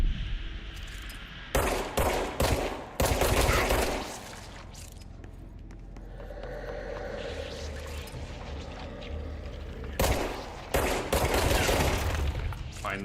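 Bursts of rapid automatic gunfire with booming impacts in the video game Control, loud and close, broken by quieter stretches of ambient rumble before the shooting resumes.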